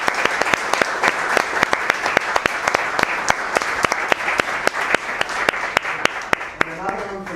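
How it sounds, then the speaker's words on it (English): An audience at a Laravel meetup claps steadily and loudly, a dense run of sharp hand claps that carries on throughout and tails off at the end. "a big applause please, everyone, to Mr. Yorgos and Harry."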